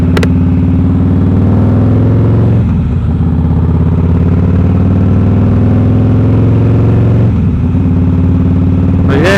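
A 2010 Harley-Davidson Heritage Softail rumbles steadily at riding speed on a rough road, its loud low engine drone continuous throughout, with a brief shift or throttle change partway through.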